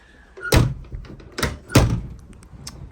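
A car door is slammed shut three times: solid, close, heavy thunks spaced about a second apart, with a quiet gap between them and no talking.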